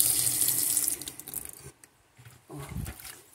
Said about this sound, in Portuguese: Vou botar um pouquinho de água aqui.